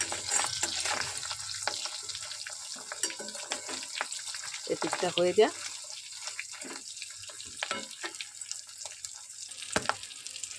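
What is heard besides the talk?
fish roe frying in a pan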